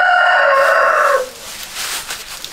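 A loud rooster crows nearby, one long cock-a-doodle-doo that ends abruptly, followed by quiet outdoor background.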